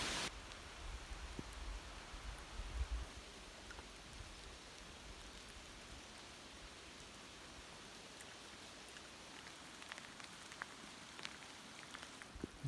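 Rain falls on a forest during a canoe trip, a soft, steady hiss of drops with occasional sharper pattering, faint and continuous without talk.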